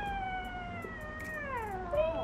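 An indoor house cat meows in a long, drawn-out, wavering cry that slides down in pitch and rises again at the end, close and clear.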